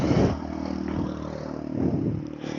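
A Yamaha R15M sport motorcycle on a test ride, its engine droning steadily and close, rising and easing in revs over a short stretch, with no voices.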